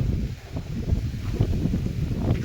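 Strong wind buffets the microphone in an open outdoor setting, a continuous loud, gusty roar with low rumbling pulses throughout.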